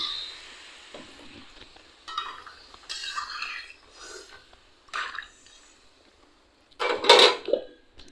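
A cooking pot of simmering vegetable curry being covered with a lid, with soft scrapes and stirring, scattered clinks, and a sharp metallic clatter near the end over a faint background.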